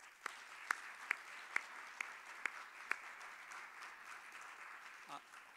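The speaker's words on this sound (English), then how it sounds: "Please join me in a very appropriate final round of congratulations and applause for our honoree" Faint, distant applause from an audience honoring a professor at an NJIT research awards event, a soft hiss of clapping with a handful of sharper, isolated claps standing out near the start.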